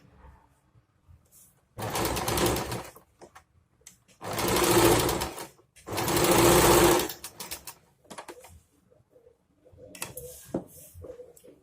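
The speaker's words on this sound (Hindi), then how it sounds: "इस तरह से अब हम दूसरी साइड भी इसी तरह से गैदर्स को जोड़ते हुए इसमें सिलाई लगा लेंगे।" A sewing machine stitches gathers on a sharara in three main runs of rapid whirring, with short taps and quiet pauses between them and no talking.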